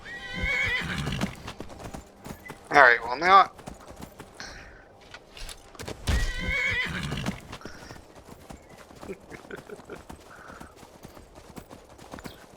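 A horse whinnies loudly twice amid a steady clatter of hooves in the video game Skyrim, while a person speaks briefly in between.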